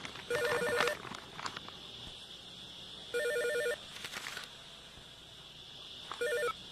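A telephone rings in short repeated electronic bursts, three separate rings spaced a few seconds apart and moderately loud against a quiet room, before the call is picked up.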